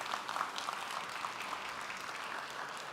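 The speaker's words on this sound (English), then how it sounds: "Big round of applause for Steven." A conference audience at a live-streamed main stage event applauds steadily throughout, a dense, even wash of clapping heard from a distance at fairly low level.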